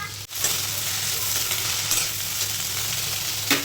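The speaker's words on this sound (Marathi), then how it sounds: "तर मी भेंडी फ्राय करून घेते" Okra sizzles and crackles steadily in a hot pan, a constant frying hiss with a couple of brief stirring scrapes.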